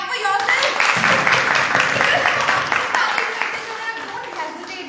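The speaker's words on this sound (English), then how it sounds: "Clap for yourself." Participants at a pageant grooming class clapping for themselves, a brisk round of applause that tapers off, with talking over it.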